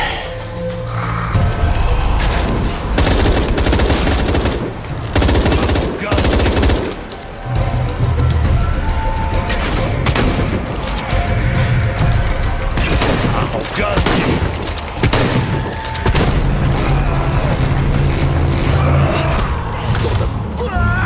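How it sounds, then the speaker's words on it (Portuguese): Repeated bursts of gunfire in Shadow of the Tomb Raider, rapid volleys and single loud shots spread throughout, with a voice speaking between some bursts. "São quatro tiros, beleza."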